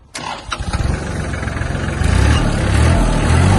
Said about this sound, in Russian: Трактор работает мягко, чисто.